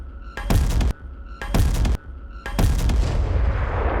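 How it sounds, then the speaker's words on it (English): Bomb explosion in the animated series Arcane, just after a club knocks the bomb away: three loud, booming blasts in quick succession, the last one swelling into a long, rumbling roar that slowly fades. "A split second before the explosion, you can hear what is presumably intended to be Ekko knocking the bomb away from them with his club."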